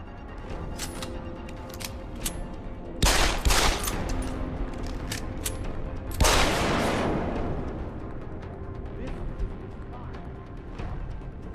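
Bursts of gunfire in the video game Deus Ex: Human Revolution, with two loud, sharp volleys and smaller scattered shots crackling over a steady game background.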